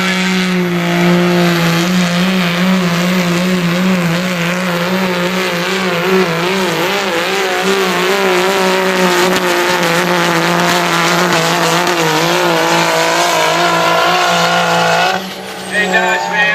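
A 2004 Dodge pickup with a 5.9 Cummins diesel engine roars under heavy load during a county fair truck pull, loud and sustained with a rising, wavering drone, then cuts off abruptly near the end, with an announcer talking over it.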